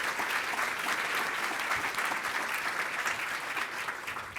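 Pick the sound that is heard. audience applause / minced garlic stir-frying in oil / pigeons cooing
audience applause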